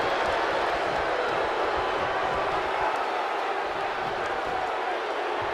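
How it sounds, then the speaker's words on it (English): A simulated arena crowd at a WWE 2K19 Summerslam wrestling match keeps up a steady, muffled roar and murmur, with faint thuds from the ring beneath it. "Crowd not too thrilled."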